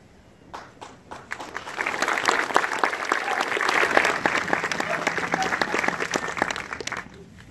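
An audience at a soldiers' graduation ceremony, a Turning Blue event, bursts into applause that swells to full crowd clapping then fades out after several seconds.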